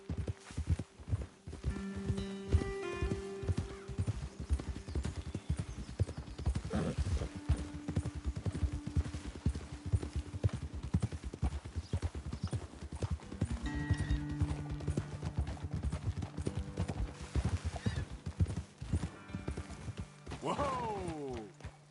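Horses' hooves clip-clop steadily in the Red Dead Redemption 2 video game as riders climb toward a lookout, with a whinny and game music layered over the hoofbeats.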